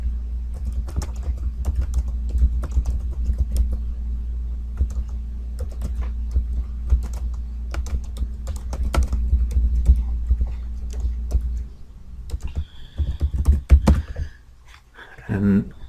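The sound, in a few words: typing a comment on a computer keyboard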